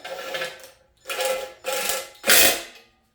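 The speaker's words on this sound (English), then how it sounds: "I'll just put in these two bottom bolts" Four short ratcheting bursts, near and loud, as a ratchet wrench tightens bottom bolts on a C5 Corvette LS6 engine during a short-block rebuild, with brief pauses between strokes.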